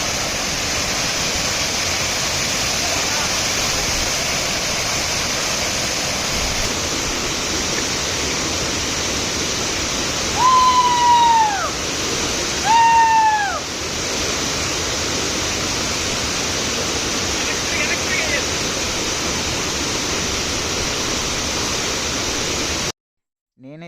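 The Alamanda waterfall in Parvathipuram Manyam district roars as a loud, continuous broadband rush of water, with a couple of brief bird-like chirps midway before an abrupt cutoff near the end.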